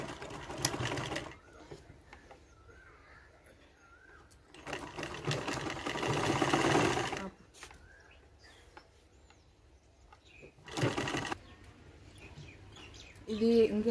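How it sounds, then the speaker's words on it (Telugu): A sewing machine stitches along a folded blouse neckline in three whirring runs, a long one in the middle and shorter ones at either end, with quieter handling between them. "ఇదిగో ఇలా మడత పెట్టుకోవాలండి. కుట్టేసింది, మడత పెట్టుకొని కుట్టుకోవాలి."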